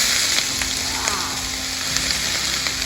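Greens and red peppers fry in a Saladmaster pan with a steady, dense sizzle, close and continuous, with faint stirring clicks.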